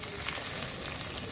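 Chopped onion hits hot oil left over from frying pabda fish for a mustard curry, giving a steady, close sizzle and crackle throughout with no talking.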